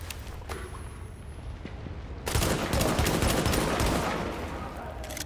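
Rapid bursts of gunfire in the video game The Division erupt after a quieter stretch of ambient noise and grow dense and loud, then thin out gradually toward the end.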